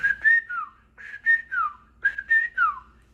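A person whistles in three quick bouts of rising and falling chirps, imitating dolphin whistles, clear and close with short pauses between groups.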